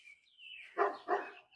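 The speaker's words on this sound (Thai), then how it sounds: "มันก็เห่าพี่น้องมันอยากเห่าก็ให้มันเห่า" A dog gives two quick barks at moderate distance, preceded by a thin high whine, with nothing else audible.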